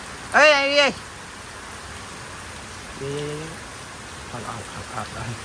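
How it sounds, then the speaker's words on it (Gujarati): Rain falls as a steady, even hiss throughout the short stretch, with a brief tonal voice-like call near the start and a fainter one later. "વરસાદ શરૂ થઈ ગયો ગાઈસ."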